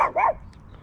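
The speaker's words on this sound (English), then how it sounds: "Sorry about the dogs. They don't ever hush." Two quick, sharp barks from a small dog, close by, followed by quiet.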